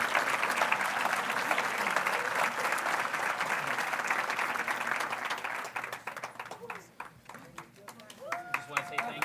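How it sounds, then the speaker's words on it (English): Steady, full applause from a banquet audience honoring a teacher, dense and sustained for several seconds before thinning into scattered claps as a voice begins over the tail. "Please give her a round of applause."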